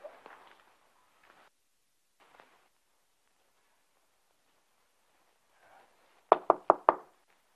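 Four quick, loud knocks rap on a door near the end, preceded by faint shuffling and scattered small noises in an otherwise quiet room.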